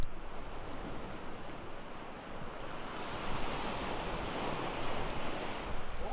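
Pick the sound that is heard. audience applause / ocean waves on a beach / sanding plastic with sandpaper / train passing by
ocean waves on a beach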